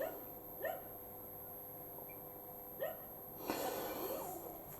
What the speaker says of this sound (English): the dog's starting to annoy me now